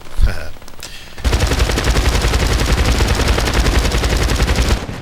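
Video game gunfire erupts into a long, loud, continuous automatic burst of rapid shots after a short quieter lead-in.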